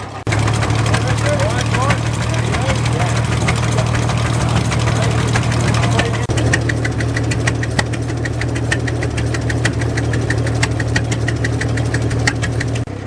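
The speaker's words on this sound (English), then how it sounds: "The unmistakable sound of the International Titan." A vintage International Titan tractor from around 1915 runs with a loud, steady low thumping engine drone throughout, and someone talks over it.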